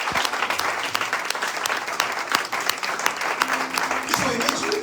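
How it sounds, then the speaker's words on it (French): A church congregation breaks into sustained, dense applause for the Lord, the clapping loud and continuous with voices mixed in. "Est-ce qu'on acclame le Seigneur?"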